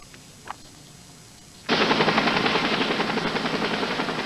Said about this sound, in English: A life flight helicopter transferred him to Vanderbilt Hospital in critical condition.